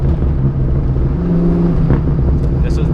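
A supercharged car accelerates hard, its engine roar loud and close with a rising mechanical whine riding on top for a few seconds.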